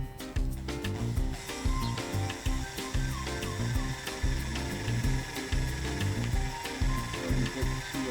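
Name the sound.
drill boring hole in wood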